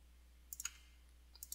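A computer mouse is double-clicked, producing two quick, faint, close clicks, followed by another soft pair of clicks a moment later in an otherwise quiet room.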